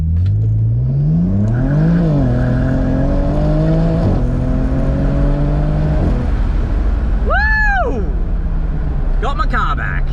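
A BMW N54 with a DCT gearbox accelerates hard at about 18 PSI boost. The engine rises loud and close through several quick upshifts, with wheel spin on an open differential. Someone talks over it.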